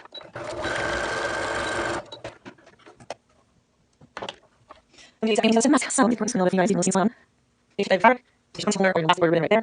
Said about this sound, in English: So I'm going to sew this down.